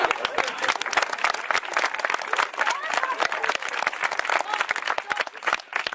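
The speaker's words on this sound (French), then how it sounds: "alors on va applaudir un peu Pierre" A circus audience gives Pierre a round of applause, with quick, dense clapping heard fairly close throughout and a few voices mixed in.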